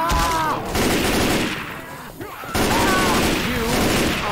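Gunfire in the video game Left 4 Dead 2 during a versus match: rapid bursts of close, loud automatic shots in two volleys separated by a brief lull, with players talking over the shooting.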